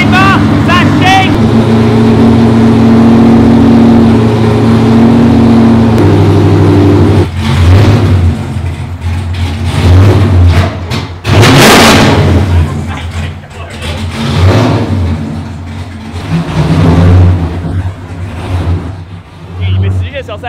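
A Formula Drift competition car's engine idling loudly at close range, a deep, rough, throbbing rumble that holds steady and then fluctuates, with someone talking over it.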